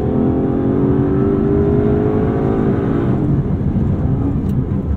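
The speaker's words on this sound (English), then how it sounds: "what do we think about that V12 soundtrack?" Aston Martin DB11 twin-turbo V12 revving hard, a loud rising engine note heard from the driver's seat, then easing off into a steadier roar with faint road noise.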